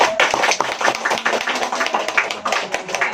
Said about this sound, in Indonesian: Tepuk tangan untuk kita semua saja Bu.